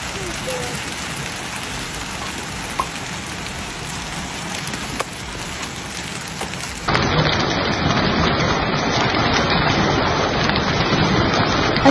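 Heavy rain from a thunderstorm over the southern plains of Oklahoma pours as a steady, dense hiss, growing louder and broader partway through, with no clear thunder claps standing out.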